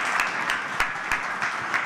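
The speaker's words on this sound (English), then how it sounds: "I think we should all give you a round of applause" A round of applause from the audience at a science innovation forum, even and moderately loud, with a few sharper claps standing out, and no voices.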